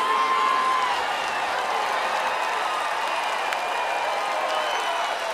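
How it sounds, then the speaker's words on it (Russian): Concert crowd at a large pop show applauding steadily, a dense wash of clapping mixed with scattered cheers and whoops, fairly loud and continuous throughout. "Ваши аплодисменты!"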